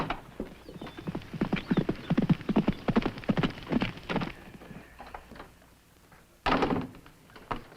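Horse hooves clip-clop in a steady, fairly close rhythm for several seconds, then fade. A louder burst follows near the end. No one speaks.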